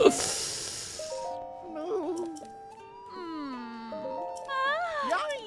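A cat in Zelda: Tears of the Kingdom meows several times in rising and falling calls, after a brief noisy burst at the start, with faint game sounds and tones underneath.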